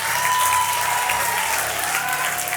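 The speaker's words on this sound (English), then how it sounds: "Yes, round of applause." A studio audience bursts into full, lively applause, a thick, continuous patter of many hands clapping at close range, with a faint steady tone and low hum running underneath.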